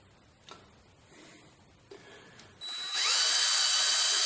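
Power drill boring vertically through timber propped off the floor, a few faint taps and bumps first, then the motor whirring up loud and steady as the bit runs.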